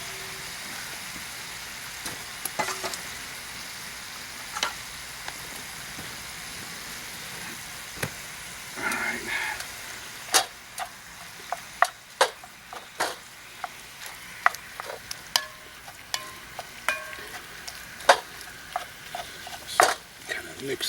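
Lasagna ingredients are stirred in a cast-iron Dutch oven with scattered, close scraping clicks and clinks of a utensil against the pot, growing more frequent toward the end over a quiet background.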